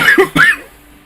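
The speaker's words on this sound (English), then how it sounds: "sorry for the coughing" A man coughs and clears his throat in two quick bursts at close range, then the sound falls to quiet room tone.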